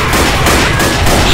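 Rapid, continuous gunfire in Left 4 Dead, loud and close, a dense overlapping barrage of shots with no pause.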